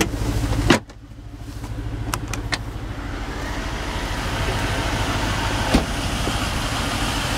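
A power tailgate on a 2011 BMW X5 5.0 runs with a steady electric motor hum, marked by sharp clicks near the start and again toward the end.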